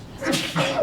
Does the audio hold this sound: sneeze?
yes